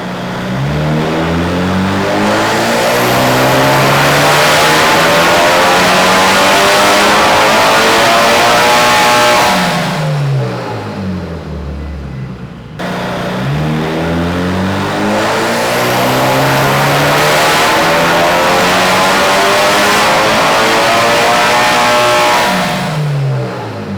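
A tuned Mitsubishi Evo 8 at 26 psi roars through two loud, sustained full-throttle pulls, its revs sweeping up hard each time, with a short drop-off and pause between them.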